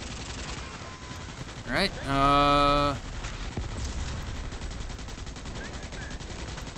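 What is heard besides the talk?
gunfire in Starship Troopers Extermination video game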